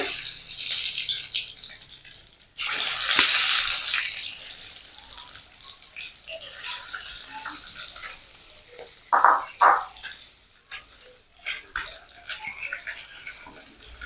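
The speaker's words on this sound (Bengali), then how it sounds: "এবার ডিম দিয়ে দিলাম তেলের ভিতর তেল গরম হয়ে গেছে" An egg frying in hot mustard oil in a kadai sizzles and crackles steadily up close, with bursts of spattering and a few sharper pops midway, no voices.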